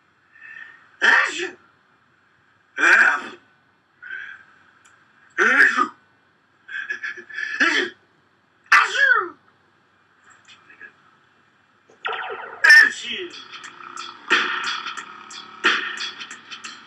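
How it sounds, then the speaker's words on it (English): A cartoon moose sneeze sound effect: a voice performs a series of short, sharp sneeze-like bursts separated by pauses, then a longer noisy stretch of layered vocal sounds toward the end. "there's a bit where the moose sneezes"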